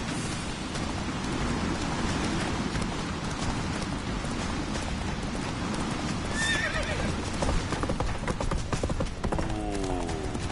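Galloping hooves of the horse Roach in The Witcher 3, a steady clip-clop over rain noise, with a loud neigh and whinny near the end; no talking.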